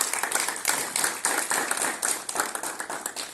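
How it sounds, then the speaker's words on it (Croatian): An audience claps to welcome a guest at a painting exhibition talk, steady many-handed clapping that swells and fades in waves, fairly close and with no voices over it. "evo i vi ga pozdravite pljeskom"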